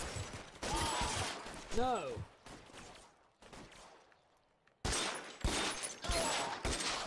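Gunfire crackles in the video game L.A. Noire as repeated shots and bursts come in clusters, with a pause in the middle and a fresh volley after, mixed with game sounds while a person talks over it.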